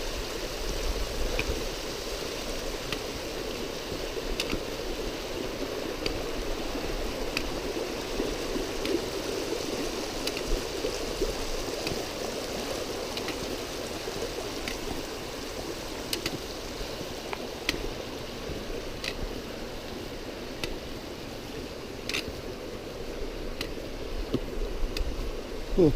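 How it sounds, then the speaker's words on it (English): A mountain stream in the Wind River Range spills over little pools and small waterfalls, a steady broad rush and gurgle of water holding constant and close throughout. "Little pools and waterfalls."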